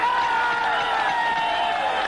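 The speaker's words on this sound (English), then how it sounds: "And the crowd reacts." A boxing arena crowd at a 1983 super featherweight title bout roars steadily after the final bell, a loud continuous wash of cheering and applause with a commentator's voice running underneath.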